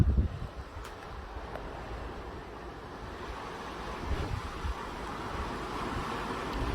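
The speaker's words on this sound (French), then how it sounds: "Oh, les rafales qui arrivent!" Strong gusts from storm Larisa in Mérignac roar across the microphone as a continuous broadband rush. The wind swells and buffets steadily for several seconds with no voices over it.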